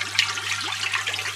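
An aerated compost tea brewer bubbles continuously with a busy watery gurgle and trickle under a steady low pump hum, close and fairly quiet.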